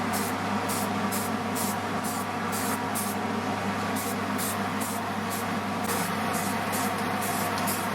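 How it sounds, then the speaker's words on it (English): Bursts of spray paint hiss in a rhythmic series of short blasts over a steady background hum as old hardware from a small desk is coated. "So I'm going to spray these as well."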